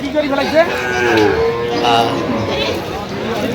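Improved-breed dairy cows low at the Aftabganj cattle market in Dinajpur, with several drawn-out moos, one near and others farther off, over the general chatter and bustle of the crowd.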